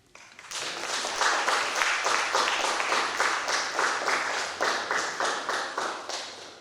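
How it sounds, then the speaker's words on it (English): Applause from a poetry series audience after a poem, rising quickly into close, steady clapping with distinct individual hand claps that stays strong for several seconds. "Another round of applause for Kate DeMarca."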